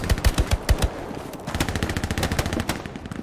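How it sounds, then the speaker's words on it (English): Machine gun fire in the World War II shooter Hell Let Loose, sounding as a rapid, loud burst of shots followed by a steady stream of quicker, slightly quieter rattling rounds, with no talking. "Machine gun."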